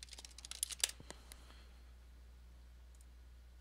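Typing on a computer keyboard gives a quick cluster of light, close clicks that fade out after about a second, leaving a quiet room with a faint hum and no voices.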